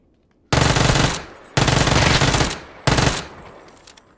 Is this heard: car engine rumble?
no